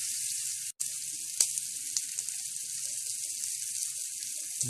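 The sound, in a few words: pork searing in a pan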